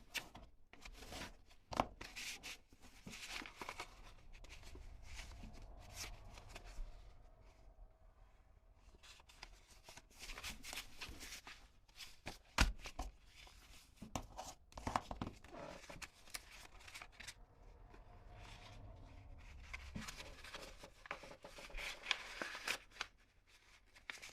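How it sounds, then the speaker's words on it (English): Paper being flattened and pressed during a Turkish map fold, with repeated soft crinkles, rustles and sharp taps close by, varying in loudness across the stretch and with no talk. "flatten out the paper, push in the center"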